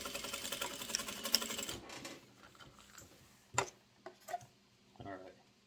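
A sewing machine stitching a fabric comfort pad for a head-to-tether harness runs in a dense, steady mechanical whir for about two seconds, followed by a few short separate bursts of stitching and handling with quiet gaps between.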